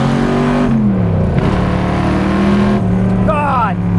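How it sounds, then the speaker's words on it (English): A Mustang Shelby GT350 engine revs loudly up through first gear, drops in pitch at the shift to second, and pulls again, close and continuous. "I gotta do an upshift from first to second"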